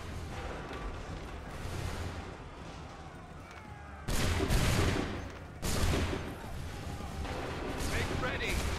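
Musket volleys crack out in a battle in Assassin's Creed III, with two loud bursts of massed gunfire standing out over a constant din of distant shots and rumbling combat, and voices shouting through it.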